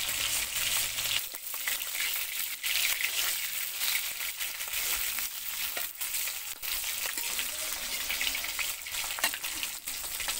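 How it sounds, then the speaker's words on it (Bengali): Tilapia fish fries in oil right after being flipped, giving a loud, continuous close sizzle with bright crackle and occasional sharper spits throughout, with no voices. "এপাশ আমার লাল করে ভাজা হয়ে গেছে। এবার আমি মাছটা উল্টিয়ে দিলাম।"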